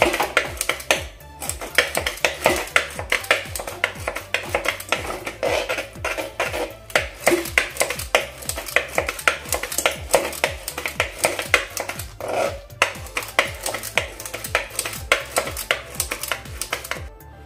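A tool mashes cooked dal in an opened pressure cooker, a steady run of quick metallic scraping and knocking strokes against the pot, close and continuous.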